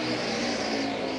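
A NASCAR stock car with an engine problem, running down a cylinder, roars past on the oval at Phoenix; a loud, sustained, rough engine drone fills the moment with no voices.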